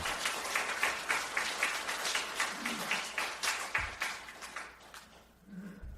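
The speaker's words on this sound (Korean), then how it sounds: "동의하신다면 박수 한번 부탁드리겠습니다" An audience at a public lecture claps in a rhythmic, fairly uniform burst, heard from a distance and soft overall, fading out toward the end.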